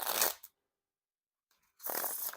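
Orange Dale Earnhardt NASCAR playing cards are riffle shuffled in two bursts of dense crackling flutter, each under half a second long, with near silence between them.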